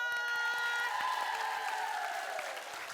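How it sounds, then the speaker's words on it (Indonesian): Applause from a studio audience on a comedy variety show, steady clapping that holds for a few seconds before easing off slightly, with a tonal hum beneath it. "Dan saya minta tepuk tangan sekali lagi untuk Bang Mali, Pak Bolas, dan Pak Jojo."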